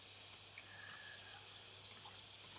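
Quiet mouse clicks on a Mac settings screen, a few sharp isolated clicks spread irregularly over a low steady hum, with no speech.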